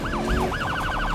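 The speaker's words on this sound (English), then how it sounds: "The charger's got different sirens," Police car siren in the Need for Speed 2015 racing game, wailing in slow sweeps that speed into a quicker yelp pattern, loud and close over a low engine rumble.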